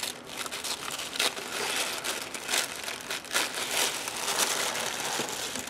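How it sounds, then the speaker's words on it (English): Tissue paper and confetti in a subscription craft box crinkle and rustle steadily during an unboxing, a close, continuous papery crackle with sharper bursts throughout. "Some nice pink confetti and tissue paper."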